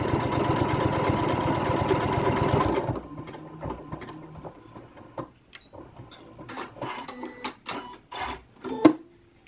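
Home sewing machine run with its start-stop button, stitching an eyelet on a corset lacing strip: a loud, steady motor whir for about three seconds, then stops, followed by quieter clicks and fabric handling.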